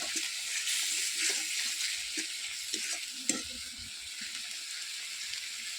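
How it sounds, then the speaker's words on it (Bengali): Boiled potatoes and peas go into hot oil with spices for ghugni, setting off a steady sizzle with scraping stir strokes and occasional clinks, close and continuous with no talking. "এই মশলা থেকে তেলটা ছাড়ছে, এবার আলু মটর সিদ্ধটা দিয়ে দিব।"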